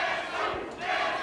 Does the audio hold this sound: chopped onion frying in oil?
no